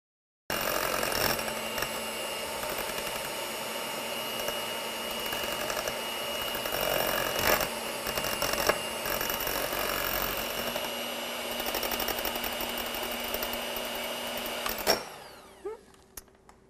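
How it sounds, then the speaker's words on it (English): A handheld electric mixer beats egg white to stiff peaks, a continuous whirring motor drone running close and steady for about fifteen seconds before switching off abruptly. "I'm going to take just my handheld mixer, and I'm going to beat this egg white until it's stiff"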